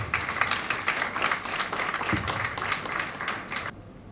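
Audience applause welcoming a guest speaker at a dialogue on political financing in Ghana, steady broadband clapping lasting several seconds and then cutting off abruptly.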